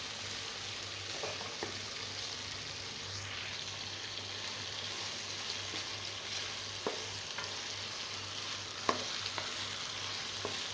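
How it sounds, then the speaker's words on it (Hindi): Chicken pieces fry in ginger-garlic paste in a kadhai over a high flame, giving a steady, even sizzle throughout with a few faint clinks of stirring and no voices. "अदरक लहसुन के पेस्ट में हमने चिकन को अच्छी तरीके से फ्राई करना है।"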